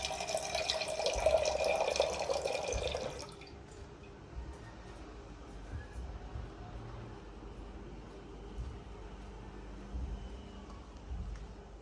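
Water splashing and spattering for a few seconds as it is sprinkled onto a cotton suit ahead of ironing, then only faint quiet handling noise remains.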